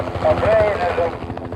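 A helicopter flying over wolves in Yellowstone during a collaring operation gives a steady, loud rotor thump with engine whine, heard close, while people talk over it.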